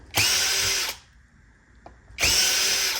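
A power drill backs screws out of an Xbox Series S console in two loud, steady whirring bursts separated by a quiet pause with a faint click.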